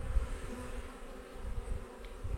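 Honey bees buzz continuously around a beehive during a hive inspection: a dense, steady, close swarm drone with no voices.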